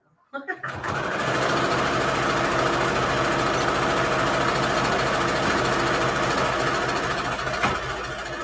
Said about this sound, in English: Just let my gentle sewing machine sounds soothe you.